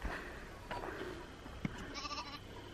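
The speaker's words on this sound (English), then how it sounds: "It's a goat. No, it's a sheep." A sheep lets out a few faint, brief bleats, thin and distant against a quiet outdoor background.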